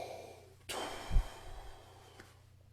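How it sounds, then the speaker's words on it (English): A brass player draws a single quick, audible breath before playing, a short close rush of air followed by a brief soft low thump, then quiet. "So I would inhale with that prep beat, the upbeat with the conductor's hand"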